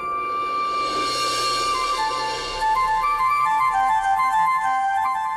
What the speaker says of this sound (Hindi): क्या तुम्हें ये बांसुरी की आवाज सुनाई दे रही है?